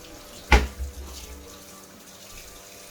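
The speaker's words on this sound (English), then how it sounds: "I got it on my hand. I'll wash my hands." A kitchen tap runs briefly as hands are washed, a sharp splash of water at the start that fades into a faint trickle, with no speech.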